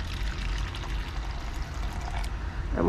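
Hot water poured into a mix of paint pigment: a continuous low pouring and trickling wash, fairly quiet and close, with no talking.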